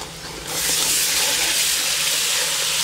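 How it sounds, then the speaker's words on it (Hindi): Water poured into a cooking pot of spiced beef nalli salan with chilli, coriander and turmeric, a steady broadband rush with sizzle starting after a brief quieter moment and running continuously, close and fairly loud, no talking. "थोड़ा सा पानी डालेंगे।"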